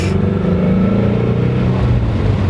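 A Shelby GT350 engine runs on a race track, a loud, close, continuous engine drone that holds steady for a couple of seconds with no talk over it.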